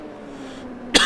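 A single short cough bursts out close to the microphone near the end, after a second of quiet room hum.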